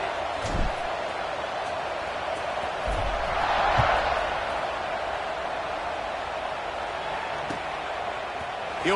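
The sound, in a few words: football stadium crowd at kickoff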